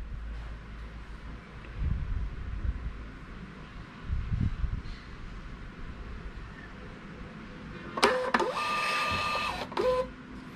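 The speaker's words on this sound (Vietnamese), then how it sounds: "bây giờ mình sẽ in ra cho các bạn xem nha" Bluetooth thermal printer printing product labels makes a short whirring, buzzing burst near the end, following a stretch of quiet room noise.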